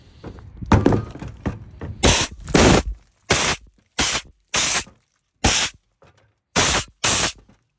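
An aerosol can sprays a Chevy Silverado fuel pump ring in hissing bursts, a few longer blasts then several short, evenly spaced spurts, close and loud with silence between.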